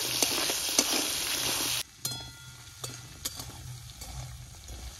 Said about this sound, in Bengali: হলুদ আর লবণ দেওয়ার পরে কাঁকড়াটা একটু নেড়ে দিব।